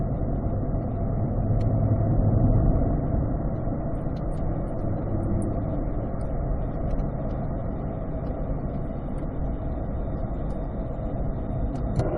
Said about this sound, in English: As we get on that gas a little bit, you're going to hear that exhaust kind of open up.